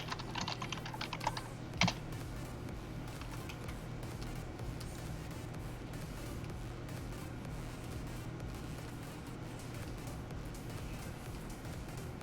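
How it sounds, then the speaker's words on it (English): Continuous typing on a mechanical keyboard, rapid clacking keystrokes in an unbroken stream, fairly quiet, with a couple of sharper key hits near the start. "I have a mechanical keyboard. I really love the sound it makes, but I forget that it's so noisy"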